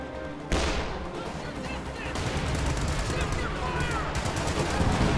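Gunfire and artillery in a video game battle with Pack Howitzer and Ostheer mortar fire, a dense continuous barrage of shots and blasts that swells louder partway through, with commentary voices over the top.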